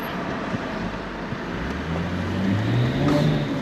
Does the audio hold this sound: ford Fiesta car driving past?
yes